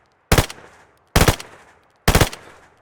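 An automatic weapon in DayZ fires three separate rapid bursts, each a sharp, loud rattle that decays quickly, with short silent gaps between them.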